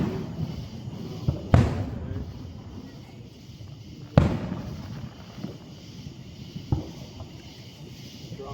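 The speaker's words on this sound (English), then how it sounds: "Fireworks in the driveway." Fourth of July fireworks go off over a driveway in Woodstock, Georgia, with three sharp booms a couple of seconds apart, each ringing out briefly over a quiet, slightly noisy outdoor background.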